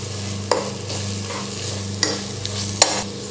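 Masala powder sautéing in oil in a pan for Ambur chicken biryani, a steady close sizzle with a few sharp spoon scrapes and clinks against the vessel, no voices.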